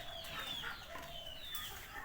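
Several chickens cluck and squawk nearby in short overlapping calls as they are fed in a village around six in the morning, over a soft outdoor background.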